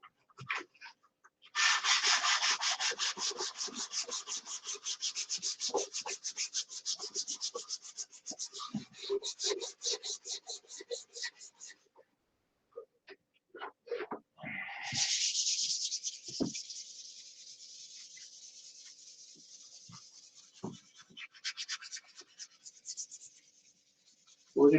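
Wood is sanded by hand with sandpaper, long bursts of close, dry rhythmic scratching strokes separated by short pauses and a few light knocks.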